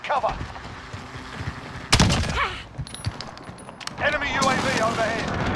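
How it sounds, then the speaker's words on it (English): Call of Duty: Modern Warfare match with bursts of gunfire and a sharp blast from an airstrike, dense crackling shots through the middle and end, mixed with in-game voice callouts. "Airstrike, take cover!"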